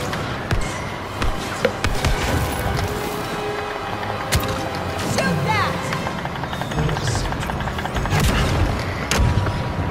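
Gunfire in Star Wars Battlefront 2, a busy stream of sharp blaster shots and booms in a chaotic battle mix, with voices talking through it.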